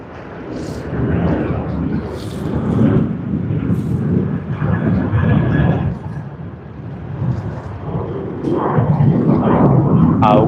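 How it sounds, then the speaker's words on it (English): A Qantas Boeing 737-800 on flight QF840 roars past at Sydney Airport during the early morning peak, a loud, rumbling engine noise that swells and holds with slight surges over ten seconds. "Sydney to Darwin, QF 840 on the Boeing"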